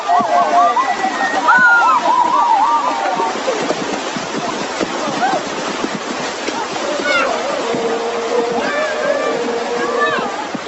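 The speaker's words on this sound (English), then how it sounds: "the men head for a small river on the other side of the village to bathe" Men bathing in a small river beside a Yawalapiti village slosh and splash the water continuously, with voices calling and talking over the watery movement throughout.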